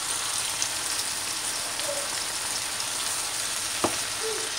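Tomatoes seasoned with salt cook in a pan, giving a steady, close sizzle with fine crackling throughout and a single sharp tap near the end.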